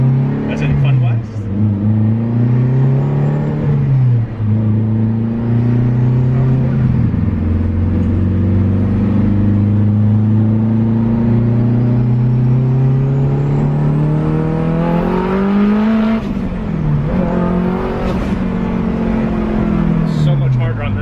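A car engine accelerates repeatedly while driving, its loud revving pitch rising through the gears and dropping at each shift, with people talking over it throughout.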